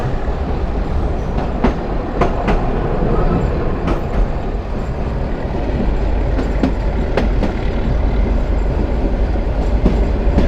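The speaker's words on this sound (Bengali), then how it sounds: "ট্রেনের ইঞ্জিন খড়খড় করে শব্দ হচ্ছে," A Burimari commuter train's engine rattles and rumbles loudly and steadily, with rhythmic clickety-clack wheel beats and sharp metallic clanks running throughout.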